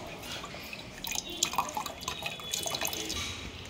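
Coconut water pouring and dripping into a container, a soft, continuous trickle with light splashy drips, faint and close, over a low background hiss.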